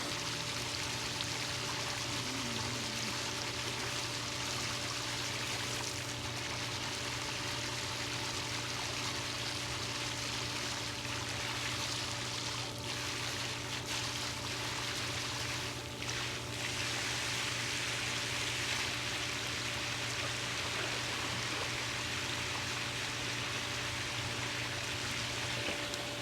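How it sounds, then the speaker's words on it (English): New fountain on an above ground pool spraying water, a constant close hiss and splash that carries on steadily without a break. "So that's our new fountain. Works pretty good."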